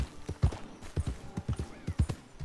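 Horse hooves clop in a steady rhythmic gait in Red Dead Redemption 2, each pair of hoofbeats distinct and close.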